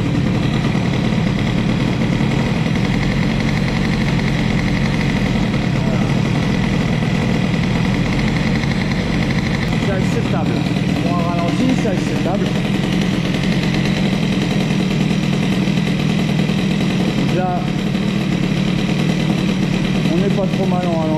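Cold CPI 70 scooter engine fitted with an Airsal kit idling steadily around 2300 rpm, a close continuous buzzing drone with brief flutters, while someone talks over it.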